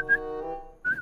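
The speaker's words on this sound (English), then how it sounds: "That's just whistling." A person whistles alone, a clear steady tone starting with a short rising note, holding, then breaking off before a brief second burst.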